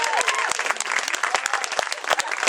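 An audience at a graduation hypnosis show gives a polite round of applause, fairly close, dense crisp clapping that holds steady throughout with a faint voice early on.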